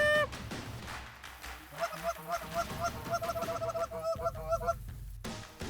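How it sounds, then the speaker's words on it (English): Geese honking in a repeated, overlapping chorus during a field waterfowl hunt in Manitoba, where snow, blue, Ross and Canada geese and mallards fly over decoy spreads; the calls are fairly close and steady, with bursts of flock noise. "So we've got what? Snow geese, blue geese, Ross geese, greater Canadas, lesser Canadas, mallards."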